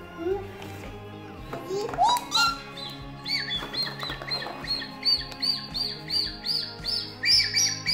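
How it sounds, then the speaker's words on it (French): Bright bird chirps and tweets repeat in quick bursts, fairly close, with soft music-like tones underneath. "T'as-tu entendu un oiseau?"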